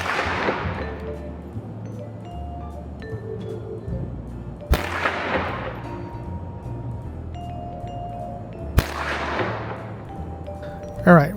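Three sharp rifle shots fired from a bipod-rested rifle on a range, spaced a few seconds apart, each a loud crack with a decaying echo over a low outdoor rumble.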